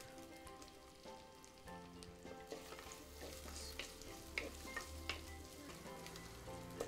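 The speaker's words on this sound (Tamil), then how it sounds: "ஸோ வெங்காயம் அப்படியே கொஞ்சம் வதங்கட்டும்" Sliced onions and garlic sauté in a hot pan, a steady close sizzle with stirring scrapes and small crackles throughout, no voices.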